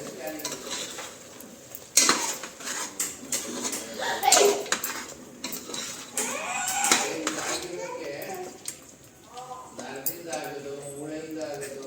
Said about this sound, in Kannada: ಎಲ್ಲ ಹಾಕ್ಕೊಂಡಾದ್ಮೇಲೆ ಚೆನ್ನಾಗಿ ಮಿಕ್ಸ್ ಮಾಡ್ಕೊಬೇಕು.